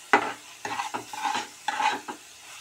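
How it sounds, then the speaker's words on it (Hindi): Ground spices roasting on low heat for a matar makhana curry, stirred with a spoon in a series of distinct scraping strokes over a quiet sizzle, close by with no talking. "मसालों को हम धीमी आंच पे 5 मिनट और भून लेंगे"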